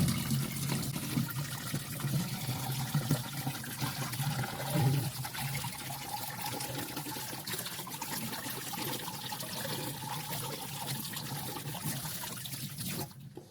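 Curry leaves being washed in water, with a steady trickling, sloshing flow that runs continuously and fairly loud throughout, no talk heard.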